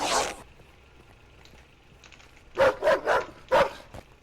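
A dog in a video game barks and bites, starting with a snarling burst, then four sharp, loud barks in quick succession after a short pause.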